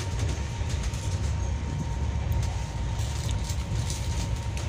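A train runs steadily inside an air-conditioned coach on the Konkan Railway, a continuous low rumble and rattle with faint clicks, moderately quiet and without speech.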